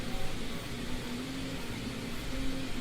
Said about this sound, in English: how much noise does the printer make?